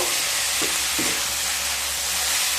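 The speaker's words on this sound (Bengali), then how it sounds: "এবার কেটে ধুয়ে রাখা বরবটিগুলো দিয়ে দেব" Shrimp, onion, garlic and yardlong beans fry in a pan with a steady, close sizzle and hiss, with a couple of soft stirring knocks.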